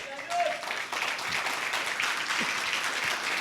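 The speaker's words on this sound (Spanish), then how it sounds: "Den un aplauso al Señor." Church congregation applause at a worship service, a steady wash of moderate clapping heard from across the room, with some voices mixed in.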